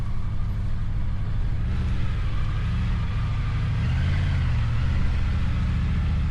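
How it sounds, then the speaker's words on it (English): A large group of Mazda Miatas rolls and idles at a mountain overlook on the Blue Ridge Parkway, a continuous mix of small engines and tire noise nearby, no speech. "Seemed to have got here at the same time a huge group of Miatas got here."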